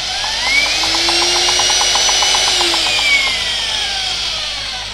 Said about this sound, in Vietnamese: Cái chức năng khoan thường anh em xem.